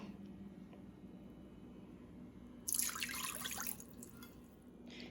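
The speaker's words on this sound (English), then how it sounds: "we're going to add half a cup of our white vinegar" White vinegar is poured into a pan in a single short stream of about a second, a faint, close splashing trickle over a quiet kitchen background.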